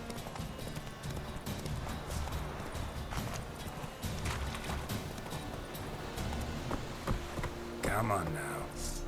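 Roach, the horse in The Witcher 3 video game, gallops with a fast, steady clip-clop of hooves, mixed with other game sounds and a faint voice in the background.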